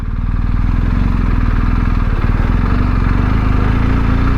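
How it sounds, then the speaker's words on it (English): A BMW R1250GS adventure motorcycle engine runs steadily and close, a continuous low rumbling throb with clattery texture, in enduro mode on a dirt trail. "This is a great bike to go exploring on."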